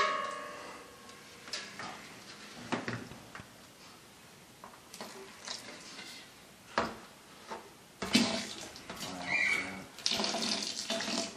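Wort recirculates during an all-grain beer brew, a steady splashing trickle of liquid poured back over the grain bed, with occasional clinks and louder gushes, close by and continuous.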